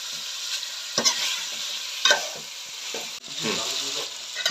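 Spices being stirred in a pot while cooking khichuri, a steady scraping and sizzling with a few louder stirring strokes, close and alone.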